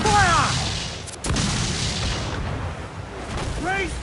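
Ship cannons firing in Assassin's Creed Black Flag, a naval battle video game: deep booming blasts and rumbling under steady roar of sea and combat, with crew voices shouting over it.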